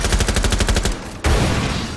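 Rapid automatic gunfire from a tactical shooter video game rattles in fast loud bursts, pauses briefly, then resumes as a dense continuous volley close up, with no talking over it.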